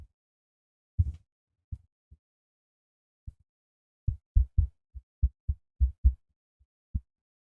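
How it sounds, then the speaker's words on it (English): Sennheiser XS1 microphone picking up a series of dull low thumps from tapping on its boom arm, about a dozen irregular knocks spread over several seconds, close but soft, with silence between them. "tapping on the boom arm did create some noise"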